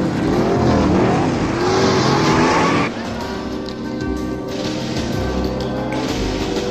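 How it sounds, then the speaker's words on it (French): A Corvette and a Lurch coupé race off the start line in a drag race, engines roaring loudly at close range for about three seconds before the noise drops to a steadier, more distant drone. "Attention, au départ, Lenny Leroy dans sa Corvette contre Jet Sneed dans son Coupé Lurch."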